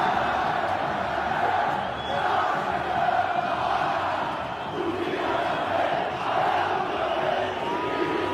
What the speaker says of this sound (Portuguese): Teve gritos de é campeão.